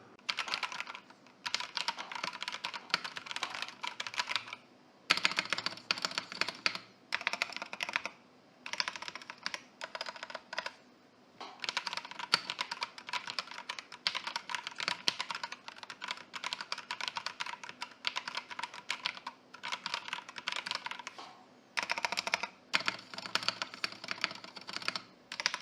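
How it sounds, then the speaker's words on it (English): Steady typing on a Darkflash GD68 compact mechanical keyboard, rapid clacky keystrokes in bursts with brief pauses, close up and without any voices. "you get to hear the sound, the typing sound of this keyboard"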